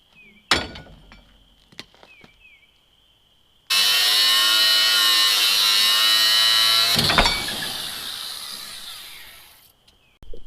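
A power tool cuts during a Ford F150 axle swap on a lifted truck, with a loud, harsh buzzing burst lasting about three seconds and fading, set between scattered metallic clanks and taps.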